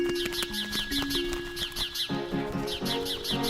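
A mother bird in an animated story chirps in quick, repeated high tweets that come in short bursts over a busy background of other tones and clicks.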